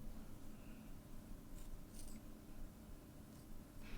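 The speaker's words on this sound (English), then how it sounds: "I'm just gonna do a little snippy snip." Scissors snipping curtain bangs in human hair, a few soft close snips spaced across a few seconds over a dull hiss, quiet and without talking.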